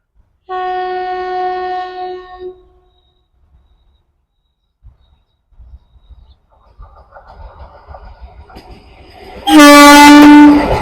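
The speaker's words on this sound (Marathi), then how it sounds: "हुबळी पुणे वंदे भारत एक्सप्रेस" Hubli–Pune Vande Bharat Express sounding a loud, sustained horn as it approaches a station, followed by quieter rumbling and then a second, louder horn blast near the end.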